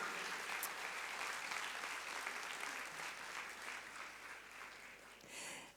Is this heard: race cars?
no